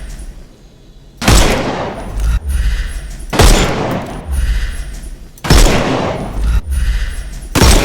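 Gunfire rings out in the Sherlock Holmes Chapter One video game as enemies' armour is shot off: three loud, close blasts, each trailing into a rumbling decay.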